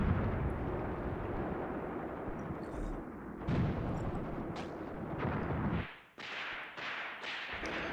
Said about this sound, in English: this is our mortar fire coming in there from the 6 off-map mortars that we have.